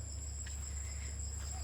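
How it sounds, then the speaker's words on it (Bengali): A few crickets chirp at dusk near a rain-soaked country path in Amlasole, Jhargram, making a thin, steady, high trill that runs unbroken over a low background hum. "গুটি কয়েক ঝিঝি পোকার ডাক শুনতে পাচ্ছি"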